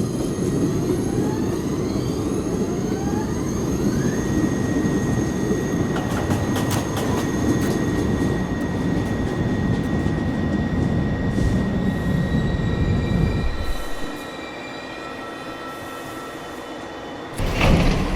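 An automated R62A 1 train on the NYC Subway rides with a steady, loud rumble and roar. Rising tonal whines come from the motors, and the noise drops to a quieter hum near the end before surging again.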